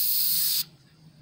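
Black paint thinned with reducer sprayed from a spray gun, a short bright hiss lasting about half a second that cuts off abruptly, leaving quiet room tone.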